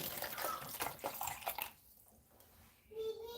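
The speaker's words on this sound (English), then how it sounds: "Just pour some of the water into the cup." Water poured from a jug into a cup for a soilless plant-growing mix gives a splashy, gurgling run for about a second and a half. It then stops into near silence, and a faint tonal trickle returns at the end.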